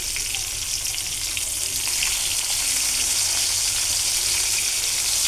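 Fish fries in a pan of oil with a loud, continuous hiss and dense crackle that stays even throughout, close up and with no talking.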